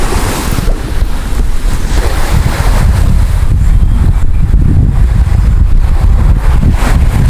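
Strong wind roaring steadily across the microphone at the seaside, with loud continuous buffeting and rumbling gusts that mask everything else throughout.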